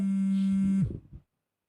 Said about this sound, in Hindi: जरा फोन बज रहा है आपका